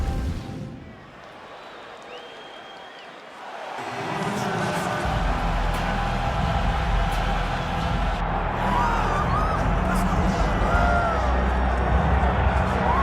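An arena crowd in the UFC 5 fighting game swells from a quiet lull into a loud, sustained roar of cheering and whoops that holds to the end.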